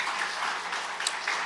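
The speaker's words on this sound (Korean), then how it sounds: "우리 박수 한번 쳐줍시다." A church congregation applauds together, a steady, dense patter of many hands clapping at moderate loudness, heard alone without speech.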